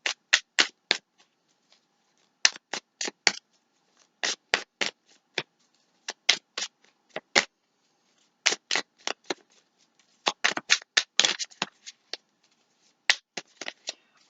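Tarot cards being shuffled by hand, a run of crisp riffling bursts in uneven clusters with brief quiet gaps, close and fairly loud with no talking.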